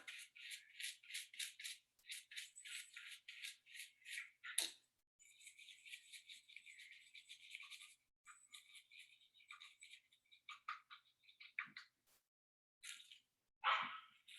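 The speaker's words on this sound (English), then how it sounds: "ignore my dog. She wanted to chime in." A small dog barks in rapid, rattling bursts indoors during a home hair-colouring session, with a steady run of sharp yaps followed by sparser, scattered barks and one louder burst near the end. No one speaks.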